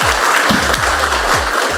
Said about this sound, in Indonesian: Ayo tepuk tangan yang hebat ngono lho.